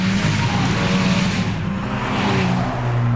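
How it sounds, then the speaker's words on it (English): A Skoda Octavia RS230 with a special performance exhaust system roars loudly and steadily on a racetrack, its engine and exhaust note sustained throughout. "This is due to the newly developed special exhaust performance system."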